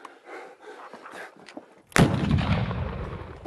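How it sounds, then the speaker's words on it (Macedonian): A single loud cannon or bomb blast in a film bursts suddenly after faint low voices, followed by a long rumbling decay that fills the rest of the scene. "Ова се наши бомби или турците донесоа топ."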